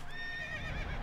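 A horse mount in World of Warcraft: Legion gives a loud, drawn-out whinny, close and clear over a low background rumble, with no speech.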